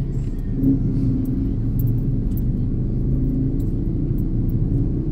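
Steady low rumble of car traffic on EDSA southbound, heading from Cubao toward a mall, heard from inside a moving vehicle with faint clicks above the continuous drone.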